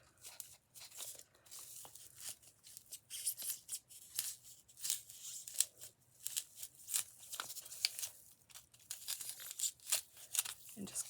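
A razor knife cuts around a round pressed indentation in a Dollar Tree craft piece, giving close, irregular scratchy slicing and crinkling strokes in quick bursts with short pauses between them.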